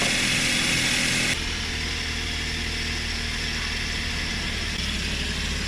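A Suzuki Every Wagon DA64W engine idles cold while warming up, giving a steady, even hum close by that drops slightly in tone partway through, with no talking.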